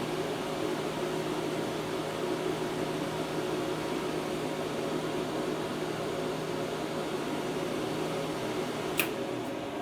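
A new APT welding machine hums steadily and continuously nearby, a flat even drone with a single short click near the end and no voices.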